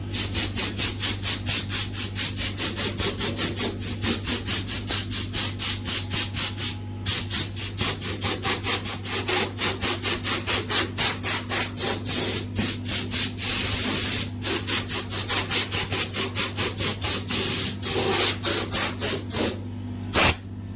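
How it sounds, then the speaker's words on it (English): Air compressor nozzle blasting dust out of a dusty crypto mining rig: loud, close hissing air bursts in rapid, repeated pulses over a steady mechanical hum, continuing for about twenty seconds with a few brief pauses. "I'll go ahead and shut this off for a second and let my air compressor fill back up."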